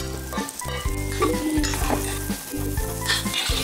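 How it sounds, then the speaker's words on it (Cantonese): Garlic slices, onion, pickled cucumber and mushrooms stir-fry in a wok with a loud, close sizzle, broken by rhythmic tossing and scraping as the ingredients are stirred. "炒香咗個蒜片之後咧，我哋就可以放洋葱啦、脆瓜啦、蘑菇落去。"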